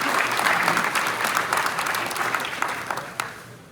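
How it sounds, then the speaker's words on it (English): Audience applause for the Girls Flag Football League coaches at a county high school football awards event, a steady crowd of clapping hands that holds loud and dense, then thins toward the end with a few last claps. "Round of applause for all of the Girls Flag Football League coaches."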